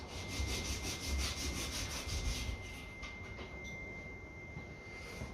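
A metal washer rubbed back and forth on a sanding board while restoring the wiring of a 1955 Ferguson TE-20 TVO tractor, a close, quiet rhythmic scraping, quick strokes at first and then slower and more even.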